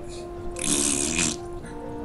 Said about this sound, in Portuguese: É batalha de peido.